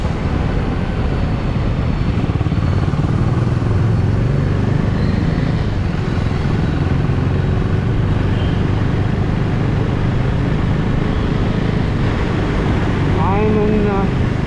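Husqvarna Svartpilen 410 motorcycle riding in third gear at about 30 km/h on an open road, a steady close engine drone with wind rush throughout, a voice speaking over it.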